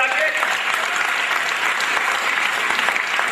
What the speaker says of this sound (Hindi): स्वागत करिए ताली बजा के